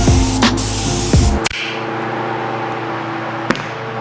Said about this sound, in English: I'm gonna actually just spray a little section of the black Accord paint on this